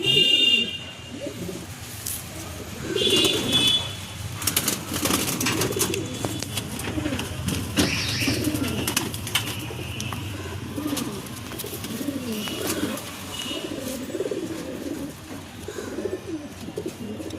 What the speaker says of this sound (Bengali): সব পায়রাই A1, খুব ভালো পায়রা।